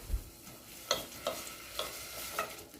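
Onion is stirred around in a pan while cooking dairy-free butter chicken, with soft sizzling and a few distinct scraping strokes of the utensil, close and quiet with no talk.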